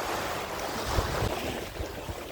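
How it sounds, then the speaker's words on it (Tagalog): Sea waves wash and surge steadily at Phi Phi Island, Thailand, on a rainy, windy day, with broadband surf noise and wind buffeting the microphone continuously and no voices. "I love the waves."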